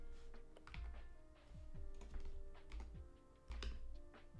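Rapid typing on a computer keyboard, irregular bursts of close key clicks with a few heavier thumps, steady and alone with no talk.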